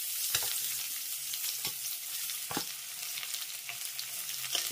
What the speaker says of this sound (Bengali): এবার আমি এর ভিতরে দিয়ে দেবো মিডিয়াম সাইজের দুটো পেঁয়াজ কুচি।